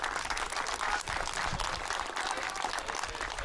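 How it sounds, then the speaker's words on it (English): A crowd applauds the host youth baseball team at a Little League championship, a steady wash of clapping at moderate level that holds evenly from start to finish. "Everybody, a big round of applause for your host"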